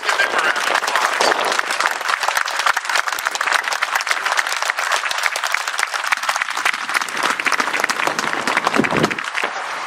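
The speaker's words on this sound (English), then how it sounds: "let's give them a round of applause." Loud, dense applause from an outdoor audience honoring veterans at the Veterans Monument in Estes Park, sustained clapping from many hands throughout without pause.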